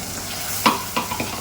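Ground green masala frying in a pan with potatoes and cluster beans makes a soft, even sizzle, broken by a few sharp spoon scrapes and taps that ring out close by.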